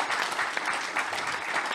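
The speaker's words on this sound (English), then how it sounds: "Let's give her a round of applause." Audience applause for Christina at a live caregivers event, a short steady burst of many hands clapping with no talk over it.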